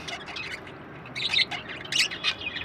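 Budgies in a breeding cage give short, bright chirps and squawks in irregular bursts, fairly close and moderately loud over a soft background hiss.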